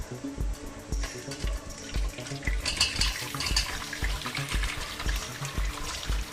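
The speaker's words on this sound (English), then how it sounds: "Next we'll pour the wine into the strainer." Homemade gooseberry (amla) wine is poured into a strainer, making a continuous splashing, trickling pour with soft knocks of the vessel underneath.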